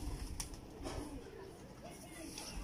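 Soft pigeon coos with low, throaty warbling notes surface a couple of times close by, partly under a voice as he talks.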